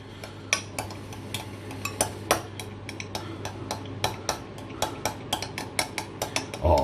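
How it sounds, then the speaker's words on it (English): Spoon or whisk clinking and scraping against a bowl while mixing herbs, nutmeg and oregano into a steak marinade, a steady run of close, sharp taps and stirs with no talking. "Let's mix that up a little bit more."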